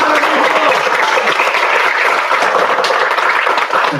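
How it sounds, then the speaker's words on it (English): A graduation-style senior recognition ceremony audience gives a sustained round of applause, dense steady clapping filling the room loudly throughout with no pauses. "So if we can give another round of applause for Miha."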